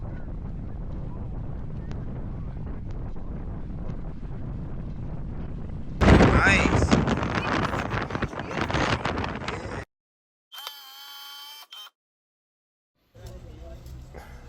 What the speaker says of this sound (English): it was extremely windy up here. Just crazy windy up here.